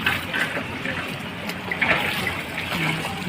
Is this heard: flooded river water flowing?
yes